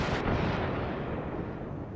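Bombs explode in a video game, one heavy booming blast with a long rumbling tail, loud and without any talk.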